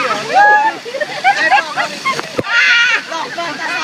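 Water splashes over riders on a rapids raft ride at an amusement park, a rushing slosh under excited shouting and talking, loud and close throughout.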